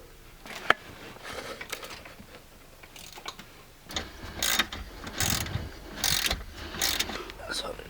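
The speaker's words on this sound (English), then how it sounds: "if not, just get a ratchet" A ratchet clicks in short, irregular bursts while loosening an H5 Allen head bolt on the starter of a 2001 Sea-Doo GTX, close up and moderately loud, with brief pauses between strokes.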